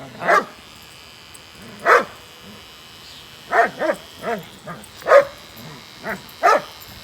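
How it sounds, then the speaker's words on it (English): Several dogs bark in short, separate bursts in the background, about eight barks and yips spread unevenly across a quiet room. "Don't mind the peacefulness of the dogs in the background"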